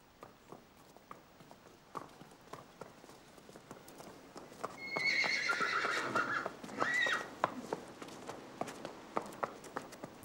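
Horses whinny loudly twice in the middle, a drawn-out neigh and a second shorter call, amid scattered hoof clip-clops and footsteps on a stud farm with historic buildings.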